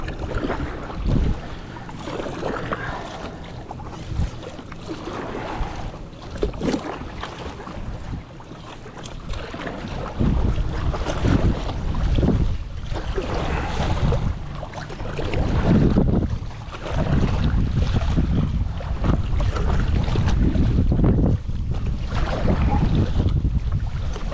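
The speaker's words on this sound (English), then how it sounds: "Oh, this wind. It's blowing right into me." Strong wind blows across Mountain Island Lake while someone paddles a small boat, a loud continuous buffeting roar with heavy microphone rumble that surges and gusts throughout, with no voices.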